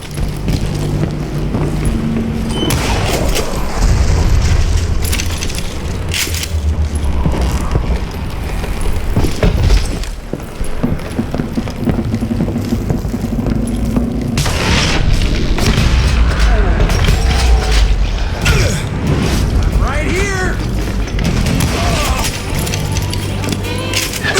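Dynamite explosions boom repeatedly in the Western shooter Call of Juarez: Gunslinger, deep rumbling blasts layered with wind and game ambience throughout, loud and continuous, while voices talk in the mix.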